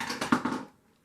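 A pair of scissors drops to the floor while someone works on a craft smash book. Several quick clattering bounces run together over half a second and then die away into quiet.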